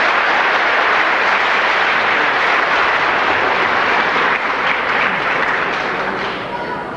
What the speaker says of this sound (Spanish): Vamos a recibir con un fuerte y caluroso aplauso al señor Neftalí Díaz